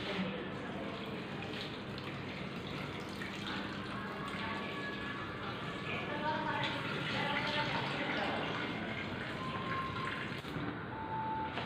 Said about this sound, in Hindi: तो उधर हम पानी भरते हैं उसको।